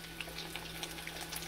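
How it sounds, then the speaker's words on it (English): A croaker fish fries in hot oil, giving a soft, steady sizzle with faint crackles and pops spread evenly throughout, heard alone at low volume. "Drop it in. And she's a sizzling."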